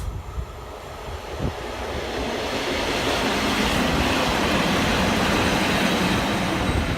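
A train rumbles past nearby at Saxilby station level crossing, a steady roaring wash of wheels and wind that grows louder and stays loud throughout.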